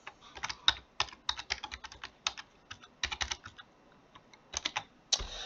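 Quick bursts of keystrokes on a computer keyboard as a password is typed in, clustered clicks with short pauses between groups, close and clear with no talking.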